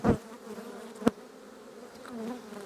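Honeybees hum in a faint, steady drone during an early spring hive inspection, with a sharp knock near the start and another about a second in as frames are handled.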